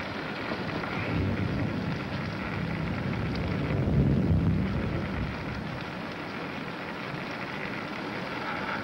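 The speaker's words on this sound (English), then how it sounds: "It's raining." Rain falls steadily as a continuous broadband hiss that swells gently and then eases, heard alone without any voices.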